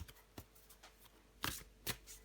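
A tarot card is drawn from the deck, with a few soft rustles and quick card flicks, close and quiet, no talking.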